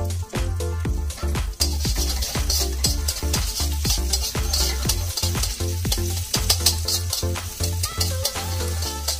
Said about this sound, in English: We then want to add the garlic and chilies. cook it for about a minute so it's nice and aromatic.